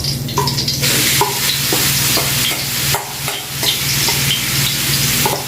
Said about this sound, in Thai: เราจะผัดเครื่องแกงก่อนจะให้มันหอมก่อน